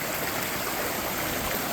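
A stream near Kilgore Falls flows close by in a steady, unbroken rush of water, with no voices over it.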